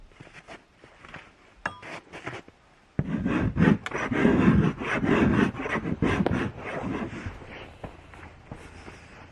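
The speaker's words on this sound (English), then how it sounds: "here's me undoing my stitches the next morning" Hand-sewn stitches are unpicked, making soft rubbing and scratchy pulls of thread through fabric in short bursts, quiet at first and then a denser stretch of close rasping with small clicks, with no voices.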